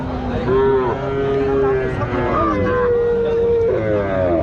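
Crossbred cattle moo repeatedly at a crowded Bangladeshi livestock market, several long, loud calls following one another above a dense background of people talking.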